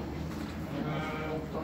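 Sheep bleat at a busy livestock bazaar where flocks are sold wholesale, with a steady crowd murmur and background voices running through the whole stretch.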